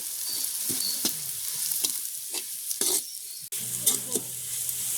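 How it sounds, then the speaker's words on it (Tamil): Onions, green chillies and other seasonings for chickpea sundal sauté in a pan in a village kitchen, a loud close sizzle broken by irregular scraping stir strokes and clacks, with no talking. "எல்லாம் நல்ல வடிவாக பதங்கட்டும்."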